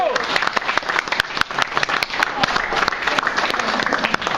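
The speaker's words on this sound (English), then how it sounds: "Let's give Joe a round of applause." An audience at a mentoring program presentation gives a round of applause, dense clapping that holds steady and close throughout while a voice speaks over it.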